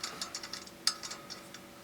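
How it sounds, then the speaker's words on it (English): A screw on a Caldwell Lead Sled DFT2 rest is tightened with a medium Allen wrench, giving a quick run of light, faint metallic clicks close by. "Then put this screw on. Takes the medium size Allen wrench that comes with this kit."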